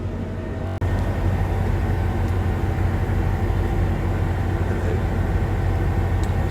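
A passenger train carriage on a journey to Bristol fills the clip with a steady, loud low rumble and hum of running on the rails, close and continuous after a brief dip near the start, with no talking.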